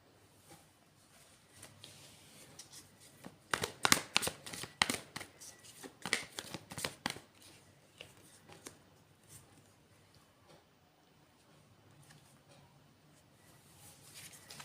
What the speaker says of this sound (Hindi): तो कार्ड आए हैं, हम ले लेंगे इन कार्ड्स को